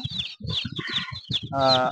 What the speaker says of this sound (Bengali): সামনে তো টাইগার মুরগি দেখতেছেন